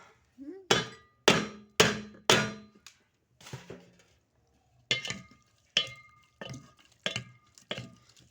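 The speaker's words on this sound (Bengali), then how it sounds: "কষানোর পর্ব চলছে।" Chili, turmeric and cumin powder being sautéed in a pan, with repeated scraping, knocking strokes of a spatula against the pan in uneven bursts and a short pause, close and without talk.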